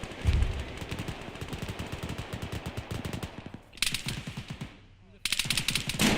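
Rapid bursts of automatic gunfire rattle out in a combat setting, fast cracking volleys that pause briefly and then resume, fairly loud and close.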